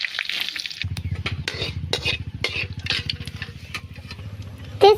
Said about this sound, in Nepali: तेल तातेपछि चाहिँ पाँचफोरनलाई रातो हुन्जेल भुट्नु पर्छ र मैले चाहिँ यहाँ दुईटा तेजपत्तालाई पनि हाल्दिएको छु